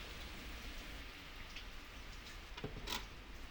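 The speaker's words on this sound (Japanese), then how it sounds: "雨音を聞きながら" Steady rain falls on a rainy-season day with hydrangeas drooping, a soft even patter with a few sharper drops and ticks standing out, fairly quiet and close, with no voices.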